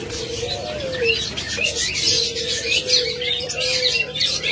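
A crowded cage of budgerigars and diamond doves fills the air with dense, constant chirping and chatter over slow, low cooing phrases, close and fairly loud, with no speech.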